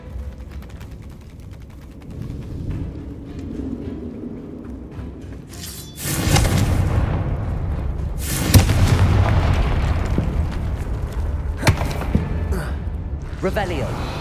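Confringo fire spell blasts in Hogwarts Legacy: a heavy explosive boom erupts after a quieter stretch, followed by a second blast and sustained crackling rumble, with scattered smaller impacts trailing off.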